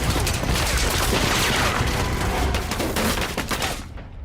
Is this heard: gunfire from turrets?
yes